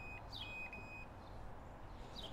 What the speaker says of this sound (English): It's just going to keep beeping at me.